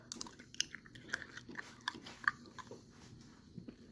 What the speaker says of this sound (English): I'm eating the gum